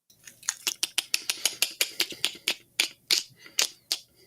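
A person imitates the Predator's mandible clicking with their mouth, a rapid run of about twenty sharp, dry clicks in fairly even rhythm, close and alone.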